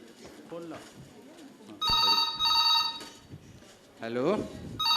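A telephone rings in a hospital skit, two loud bursts of a steady electronic ring with a gap between, surrounded by voices talking before and after.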